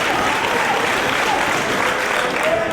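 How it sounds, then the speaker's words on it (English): Wrestling crowd at a Ring of Honor match applauding and cheering steadily, a dense, sustained wash of clapping and shouts filling the arena throughout with no pauses. "Crowd getting behind these two."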